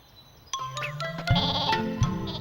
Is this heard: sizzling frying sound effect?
no